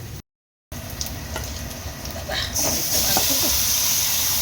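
Meat drops into a pan of onions, green chillies, onion paste and ginger-garlic paste, and a loud, steady sizzle builds and spreads after a brief gap, growing brighter and fuller toward the end.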